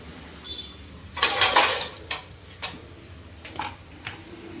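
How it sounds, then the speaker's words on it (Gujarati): Metal dishes, pots and pans clanking and scraping during washing up at a home, several sharp bursts of clatter with short pauses between them, close by. "હવે હું વાસણ ઘસું છું"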